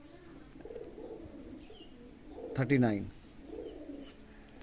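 Adult pigeons kept for sale coo softly in the background, with one louder, rippling coo rising in the middle, while a person speaks briefly.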